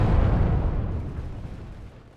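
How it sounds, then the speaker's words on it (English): An artillery barrage exploding in WARNO, a loud deep rumbling blast that slowly fades away. "Let's get this area kind of covered with artillery."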